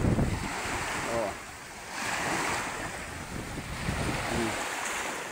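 Loud surf crashes and rolls in repeated surges from strong typhoon-driven sea waves, mixed with heavy wind buffeting the microphone; faint voices are briefly audible underneath.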